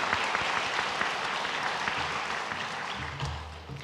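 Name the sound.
congregation applauding to welcome newcomers in church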